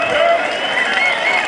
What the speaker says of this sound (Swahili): Sasa hayo makofi peke yake hayatoshi